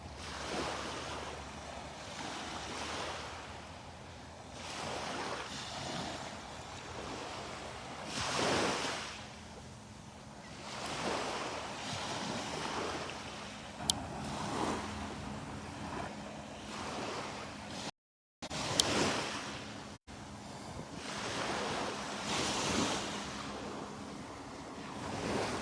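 Ocean waves breaking on a beach at Delnor-Wiggins on a morning walk, rolling surges that swell and wash in every few seconds under steady wind noise, with a brief dropout midway and no talking.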